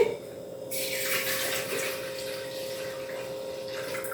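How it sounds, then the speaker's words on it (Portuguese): Half a litre of milk is poured into a bowl for simple pancake batter, a steady splashing liquid stream starting abruptly after a brief pause and running on continuously, close and moderately loud. "Então aqui vai meio litro de leite."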